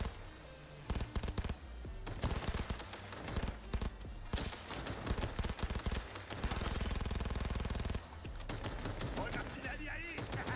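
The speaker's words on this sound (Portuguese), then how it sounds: "Olha a artilharia aí!" Dense game gunfire and artillery bursts in Cyberpunk 2077: Phantom Liberty, rattling in rapid volleys and heavy impacts under a steady combat mix, with someone talking excitedly in Portuguese.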